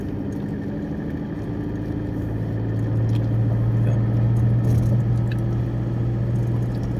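A car engine idles at low volume, a steady low hum that grows slightly fuller midway through, with faint incidental clicks and no voices.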